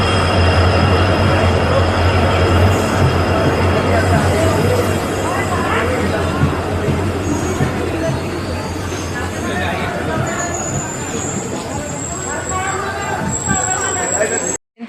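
A passenger train heading to Balurghat rolls along with a loud, continuous rumble and rattle heard from inside the carriage, with voices murmuring throughout over the steady noise.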